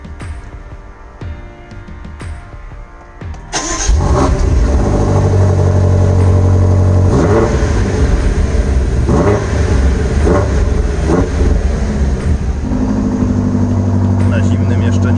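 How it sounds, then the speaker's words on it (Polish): A BMW M5 Competition with louder exhaust mode engaged is cold-started, the starter whirr followed by a loud, deep, steady engine roar with brief revs, recorded close behind the car. "Pora na zimny starcik, tyłem do ściany."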